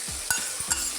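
Sauces stirred into sizzling mushroom Manchurian in a pan, a steady frying hiss broken by a few quick scraping strokes of the spoon, close and alone.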